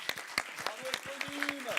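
Short burst of audience applause at a podcast's tenth-anniversary recording, scattered sharp claps mixed with voices talking over them.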